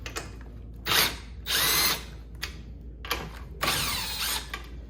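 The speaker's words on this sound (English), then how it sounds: "now we're going to remove our 4 10 millimeter bolts" Power tool removing 10 mm bolts from the front grill of a 2015-2019 Duramax truck, heard as several short bursts of drilling whir separated by pauses, close and fairly loud.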